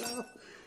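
Drinking glasses clinking and breaking in a Greek comedy scene, a quick faint ring of glass followed by a brief scattering rattle.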